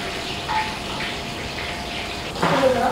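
Water gushing into a large vessel to soak 5 kg of basmati rice for bulk Arabian majboos cooking, a steady pour that swells louder near the end.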